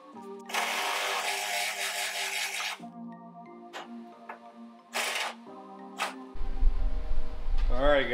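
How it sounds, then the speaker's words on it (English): A power drill whines in several bursts, drilling a hole through a Subaru GC8 car hood, starting and stopping with short pauses between, with a rasping grind near the end. "just drilling a hole through your hood"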